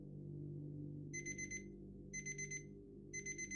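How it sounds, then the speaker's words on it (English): An alarm clock beeps in three evenly spaced bursts of rapid electronic chirps, faint over a steady low background hum. "alarm went off at 7 a.m."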